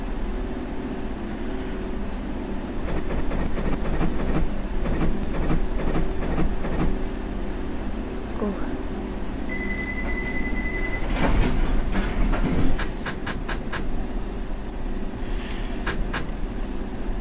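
Simulated London Underground Circle Line train running between Liverpool Street and Cannon Street in World of Subways 3, a steady rumbling drone with repeated rail clicks and clatters, a brief tone near the middle, no talk.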